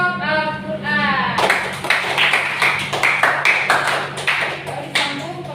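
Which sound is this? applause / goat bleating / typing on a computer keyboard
applause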